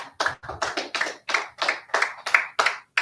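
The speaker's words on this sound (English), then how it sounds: "Clap it up for that." A small group claps in a loose, rhythmic pattern of about ten distinct bursts, close and fairly sparse, with no voices.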